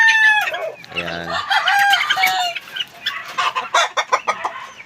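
Backyard chickens cluck and a rooster crows nearby, with a short low droning patch partway through and a run of sharp, irregular clucks and squawks toward the end.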